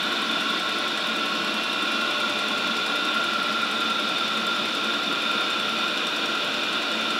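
Chinese diesel heater running with its fan turned up, giving a steady, continuous whirring drone with a bright hum, close and constant throughout with no talk.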